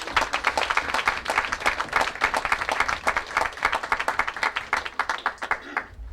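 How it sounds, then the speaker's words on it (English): Guests at a launch event for the JTA/Sagicor Champs applaud in a room, a sustained round of clapping with individual claps clearly audible, steady and close, easing slightly near the end. "Can we just give them a round of applause?"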